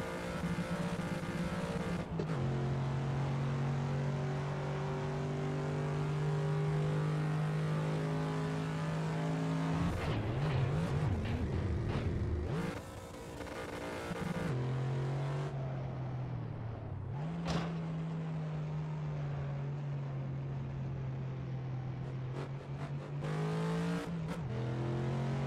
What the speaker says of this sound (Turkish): Araba içinden kesici daha güzel duyuluyormuş da.